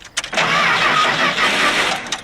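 Car engine cranking and struggling to start, a loud, close, continuous grinding churn that keeps on for about two seconds before it drops away, with no voices.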